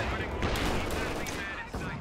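Suppressive gunfire in an online 2v2 team video game, dense and continuous bursts of shooting that run without a break through a short span.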